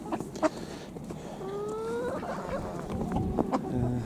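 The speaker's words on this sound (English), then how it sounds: "Chickens aren't too impressed by what's happening today." Soft clucking from a chicken or two in a snowy suburban backyard in winter, amid a rustling background, with a brief drawn-out call in the middle.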